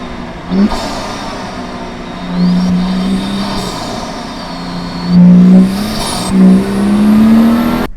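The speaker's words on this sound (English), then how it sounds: "I'm hearing a lot of induction noise, but the exhaust note is sort of, it's not bad" A BMW M235i turbocharged engine drones steadily with intake roar and a throaty exhaust note, rising in a few revving surges, close and loud.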